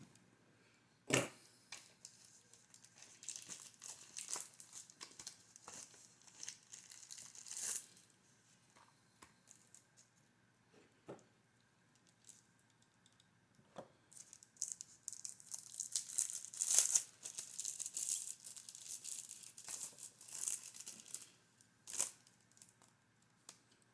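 A mail envelope is torn and crinkled open by hand, close and quiet, with scattered paper rips and rustles spread across the stretch and a louder tear near the middle.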